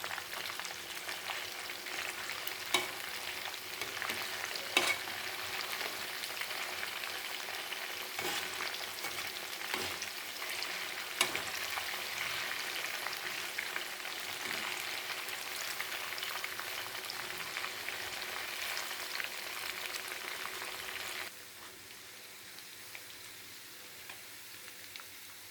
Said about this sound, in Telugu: ఈ విధంగా కొద్దిగా ఎరుపు రంగు వచ్చే వరకు వేయించుకొని తీసేయాలి.